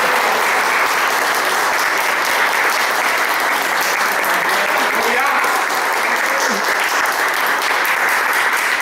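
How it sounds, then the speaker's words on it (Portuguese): Audience applauding after a personal testimony about a stay at a recovery clinic, with loud, sustained, dense clapping and crowd noise and some voices mixed in throughout. "Hoje eu peço uma salva de palmas para"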